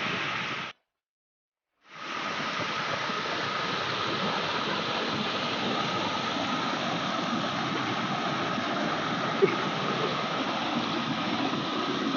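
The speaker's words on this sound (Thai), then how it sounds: "เราได้เดินทางมาฮอดน้ำตก ข้ามุ่นแล้วครับพี่น้อง" Steady roar of the Kha Mun waterfall, a broad continuous rush of falling water that cuts out briefly near the start and then holds constant and fairly loud with no voices.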